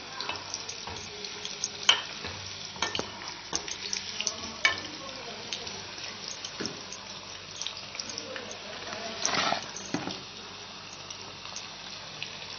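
Raw banana slices fry in a pan with a soft, continuous sizzle, broken by scraping and stirring clatters and a short watery burst near the end.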